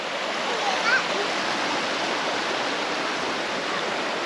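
A river rushes over rocks along a 4x4 track as a broad, constant hiss of flowing water, steady and close, with no voices over it.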